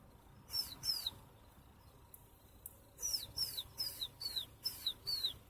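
A small bird gives repeated high, sweeping chirps, a couple at first, then a quick regular series of eight or so, clear and close in a quiet room.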